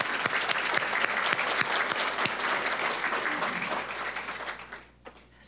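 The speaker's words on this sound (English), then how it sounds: "One more round of applause for the ladies." An audience applauds honored women at a Salute to Women event, a dense, steady clapping that fills about five seconds before thinning out and fading near the end.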